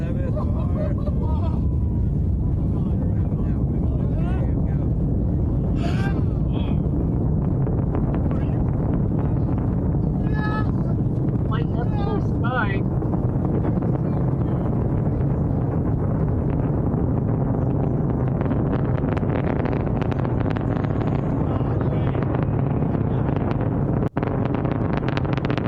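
Blue Origin New Glenn rocket launch roar, a loud continuous low rumble with wind buffeting, swelling and growing denser over time, with occasional faint voices early on.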